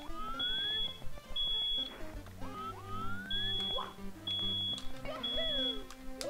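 A smoke detector sounds in the Super Mario 74 game as repeated high, steady beeping tones in short bursts, layered over game music and effects, with someone talking throughout.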